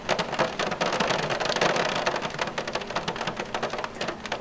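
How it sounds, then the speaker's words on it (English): Brief monsoon rain patters on surfaces around a parked skoolie bus, a dense wash of drops, louder early and thinning toward the end. "I hear a little pitter-patter."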